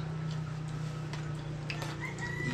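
Golden Boy Sweater gamecocks cluck and call in a farmyard, scattered short bird sounds over a steady low hum, fairly faint and somewhat distant, with no clear talk.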